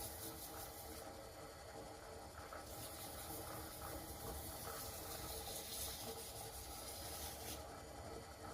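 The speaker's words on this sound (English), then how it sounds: "Starting at 1000 grit. Working my way up to 7000 grit." An ash and resin bowl on a wood-turning lathe is wet-sanded through fine grits from 1000 up to 7000, giving a faint, continuous rubbing hiss that stays steady throughout.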